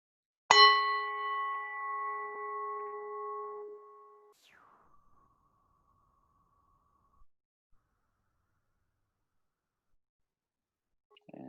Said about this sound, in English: I'm going to go ahead and invite the bell to get us started.